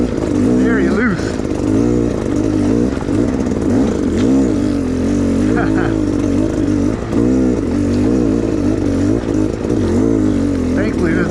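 Beta dirt bike engine lugging at low revs over loose, rocky single track in Arizona, a steady close throaty drone with small surges in throttle running throughout.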